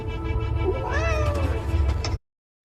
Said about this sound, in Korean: 猫叫了吧？